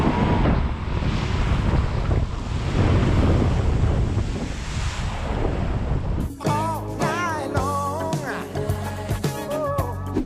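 A Volkswagen Amarok Aventura pickup truck wading through water: about six seconds of loud rushing, splashing water and wind roar, after which music takes over.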